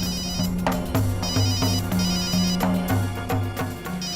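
A mobile phone ringtone plays as a repeating electronic melody of bright bell-like tones in short regular bursts, clear and close, continuing for several seconds without any voices.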